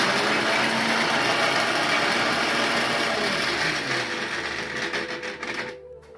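A kitchen mixer grinder whirs loudly with a rattling, grinding hum, then slows and cuts off near the end.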